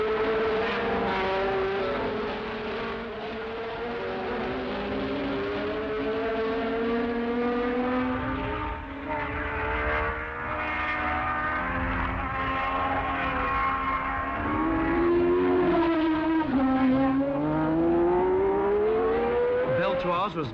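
Race cars on the circuit at the 1973 Swedish Grand Prix, a loud sustained engine drone with shifting pitch as cars pass, running continuously under a commentator's voice.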